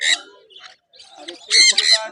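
Sun conure parrots at a bird market let out loud, harsh squawks in short bursts near the start and end, with a voice speaking between calls.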